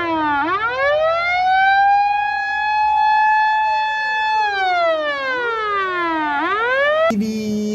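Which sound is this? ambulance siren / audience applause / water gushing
ambulance siren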